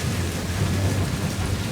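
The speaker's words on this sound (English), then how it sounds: "It's just constantly fucking raining." Heavy rain pours without letup on a wild island, a dense, even roar of water close by with a low rumbling undertone and no voices.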